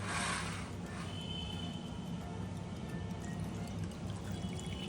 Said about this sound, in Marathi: कुकर गार झाल्यानंतर आता आपण हे जे पाणी आहे ते गाळून घेतोय